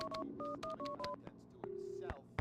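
A telephone is dialed in The Punisher video game: a quick series of clear keypad tones, then a longer steady tone with faint background game ambience.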